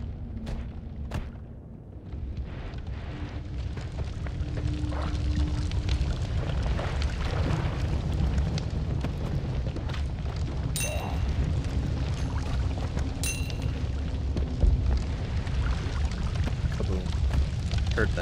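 A long rumbling explosion in the pixel-physics game Noita, a dense sustained roar that holds for many seconds with scattered pops and crackles, fairly loud and with no talking.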